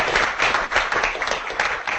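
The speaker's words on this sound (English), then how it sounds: "So another round of applause." An audience applauds after a talk on a Great Lakes plastic pollution survey, a dense, steady wash of many hands clapping at moderate loudness throughout.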